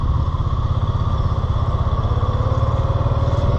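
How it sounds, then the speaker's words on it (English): A tractor engine at the Half Century of Progress show chugs in a loud, steady, low rhythm while pulling a four-bottom plow through heavy soil, close up and without talk. "Pulling a four bottom plow."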